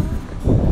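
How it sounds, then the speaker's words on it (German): Very strong wind gusting over open countryside on the Gantrisch panorama trail in Switzerland, a short buffeting rumble that swells louder halfway through. "Und dazu ein sehr, sehr, sehr kräftiger Wind."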